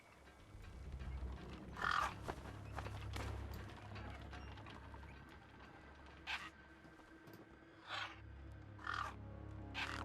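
Crows caw in a wasteland scene from the video game Beyond a Steel Sky, four or five separate harsh calls spaced a couple of seconds apart over a steady low rumble of ambient noise.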